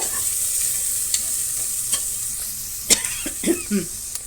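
Onions frying with ginger garlic paste in a pan for paneer biryani, a steady soft sizzle with a few louder stirring scrapes and clinks near the end, no voices.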